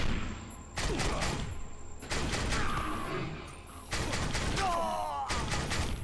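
Combat shotgun variant in the video game Defiance fires three-round bursts from a 15-round clip, several loud, punchy bursts in quick clusters separated by brief pauses, with mechanical clatter between them.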